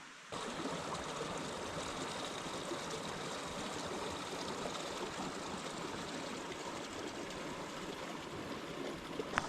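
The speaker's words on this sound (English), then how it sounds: "I think the waterfall is just another few hundred feet up" A stream rushes along below a waterfall in the Alaskan wilderness, a steady, close, full-bodied flow of churning water that holds an even level throughout with no voices.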